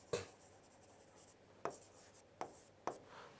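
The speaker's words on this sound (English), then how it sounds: "So let me write it, high demand of dollar and the low demand of dollar." Pen strokes writing on a board, a few sharp scratchy marks spaced irregularly, close and quiet with no talk.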